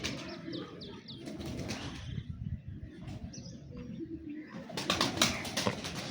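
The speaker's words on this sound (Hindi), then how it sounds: "ये कबूतर" Breeder pigeons coo softly and flap their wings in bursts close by, the wingbeats growing louder toward the end, over a low background murmur.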